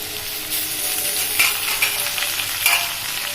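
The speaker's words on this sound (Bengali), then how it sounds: "দিয়ে এটা ভালো করে নেড়ে দেবো।" Chopped tomato frying for a pasta sauce, with a constant close sizzle and a few spatula scrapes and knocks against the pan as it is stirred.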